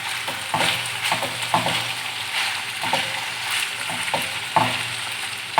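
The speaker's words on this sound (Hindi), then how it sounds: "मैं इसमें ऐड करूँगी चिकन जो मैंने लिया था 1 kg, और इसका कलर चेंज होने तक मैं करूँगी फ्राई" Chicken pieces fry in hot oil in a pan for tawa boti, a steady close sizzle with occasional sharper crackles and spatter pops throughout, no voices.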